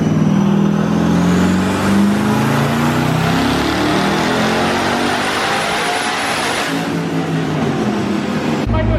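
A twin-turbo Camaro ZL1 running on pump gas is pulled at full throttle. It makes a loud, sustained roar whose pitch climbs steadily for about nine seconds and then cuts off abruptly near the end.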